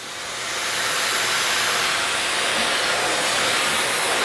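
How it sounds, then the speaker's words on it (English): A Miele Guard M1 Parquet XL vacuum cleaner runs on a low suction setting with a steady, loud airy whoosh that builds over the first second and then holds even throughout, with no talking. "When a vacuum is too powerful for its own good, this is what happens."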